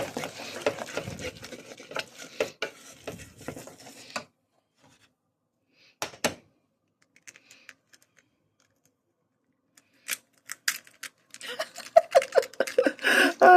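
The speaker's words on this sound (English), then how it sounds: "You mix that in so it's nice and goopy." A spoon stirs and scrapes homemade dumpling dough of flour and egg in a bowl, giving close, rhythmic wet scraping in two bursts with a near-silent pause between, plus a few isolated taps.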